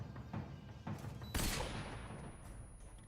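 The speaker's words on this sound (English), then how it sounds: "Stun grenades." A loud stun grenade burst in Metal Gear Solid 3 erupts midway as a bright, hissing blast, following a couple of duller thuds and trailing into a fading rumble.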